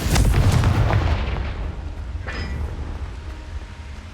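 A Confringo blasting spell cast in Hogwarts Legacy, a loud booming explosion up front that rumbles and decays over the next few seconds, with a brighter crackling flare partway through.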